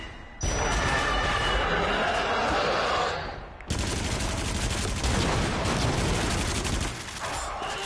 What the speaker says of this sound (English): This gun definitely does a little bit. The shotgun's got all that stopping power.